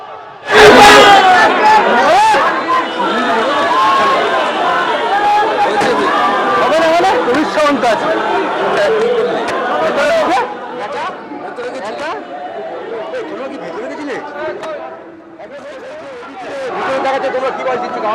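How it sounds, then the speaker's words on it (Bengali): Rival crowds of Trinamool and BJP supporters in Kalighat, West Bengal, chant political slogans outside Mamata Banerjee's house during an election road show. It is a loud, sustained roar of shouting and chanting voices that rises and falls. "ওদিক থেকে তৃণমূল চোর চোর স্লোগান দিচ্ছে, পাল্টা বিজেপিও স্লোগান দিচ্ছে।"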